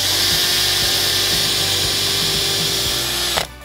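A cordless screwdriver drives a screw into chipboard, a loud continuous high whine with a steady rhythmic churn underneath that cuts off abruptly near the end, close up and alone with no talk.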